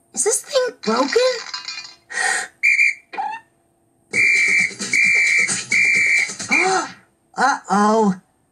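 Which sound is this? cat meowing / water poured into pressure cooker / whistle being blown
whistle being blown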